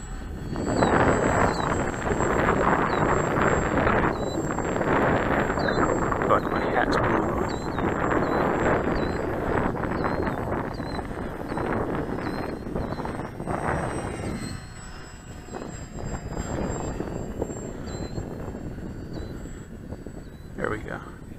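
A Parkzone Mosquito radio-controlled model plane flies in windy conditions, its thin electric motor whine rising and fading as it circles, over gusty wind noise on the microphone, while a person talks.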